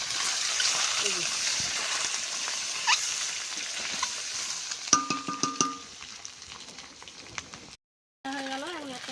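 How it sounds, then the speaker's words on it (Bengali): Duck eggs frying in oil in a wok over a hot wood-fired clay stove, a dense close crackling sizzle with sharp pops and spatters, voices talking over it, then a short silent gap. "তেল দিয়ে দিলাম কড়াই, ডিমগুলো দিলাম।"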